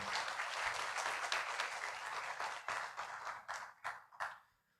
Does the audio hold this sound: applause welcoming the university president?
yes